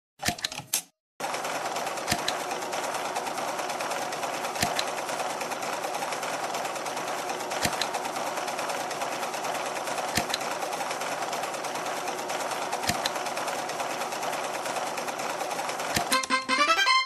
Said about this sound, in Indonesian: Ayo jahit, satukan potongan-potongannya.